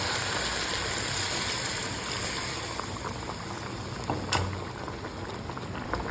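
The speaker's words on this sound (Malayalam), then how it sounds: "നല്ല കുറുകിയ തേങ്ങാപ്പാൽ ഒരു കപ്പ് തേങ്ങാപ്പാലാണ് ഞാൻ എടുത്തിരിക്കുന്നത് അതായത് ഒരു തേങ്ങയുടെ പാൽ നല്ല കുറുകിയത് നമുക്ക് ഒഴിച്ചു കൊടുക്കാം" Thick coconut milk simmers in a yellow catfish curry, a dense, even bubbling hiss held steady throughout, close and without talk, with one faint clink near the end.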